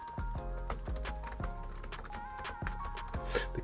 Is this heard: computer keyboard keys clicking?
yes